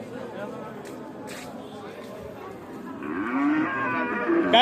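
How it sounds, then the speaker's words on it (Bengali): Cattle at the Hazratpur cattle market in Keraniganj, Dhaka, ahead of Eid, with one cow giving a loud, drawn-out moo near the end over background crowd chatter. "ভালো গরু আছে দেখা যাচ্ছে।"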